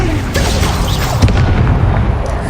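An Incendio fire spell blast in Hogwarts Legacy: a loud, sustained booming roar of flame and impact rumble lasting a couple of seconds, close and dense.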